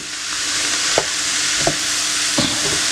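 Ingredients for stuffed squid sautéing in a pan, with a loud, steady broadband sizzle throughout and three or four soft knocks of a utensil stirring, close up and without speech.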